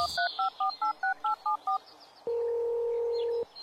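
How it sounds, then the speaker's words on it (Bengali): Telephone dialing in a Bengali detective audio drama: eight short, evenly spaced keypad beeps in quick succession, then a single long steady tone, clear and close. "কাকে একটা ফোন করলো।"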